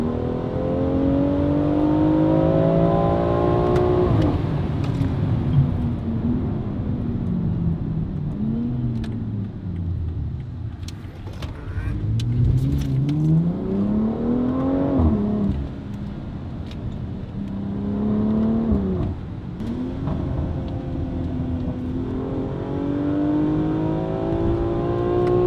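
A BMW X3 M fitted with a Valvetronic Designs exhaust and stock downpipe, likely B58-swapped, roars loudly through repeated rising and falling revs and gear pulls, the exhaust note sweeping up and dropping back over sustained engine drone.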